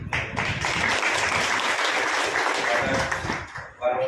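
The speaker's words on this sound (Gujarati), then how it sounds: "બરોબર તાળી પાડી જવો." Audience clapping at a religious satsang gathering, a dense, continuous wash of applause that swells and holds for several seconds before fading, with voices talking over it.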